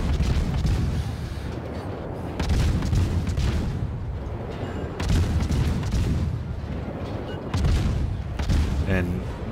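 Heavy naval shells from World of Warships crash into a battleship in repeated booming volleys, loud and dense, several impacts rolling one after another, with faint talk underneath.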